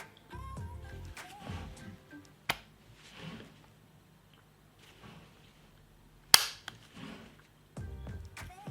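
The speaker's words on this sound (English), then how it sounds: "a very firm fire selector switch, a little bit stiffer when you go into the full auto mode" A Desert Eagle airsoft pistol's firm, stiff fire selector switch clicks between safe, semi-auto and full-auto positions, a few sharp, close snaps separated by pauses, with a quiet voice talking at moments in between.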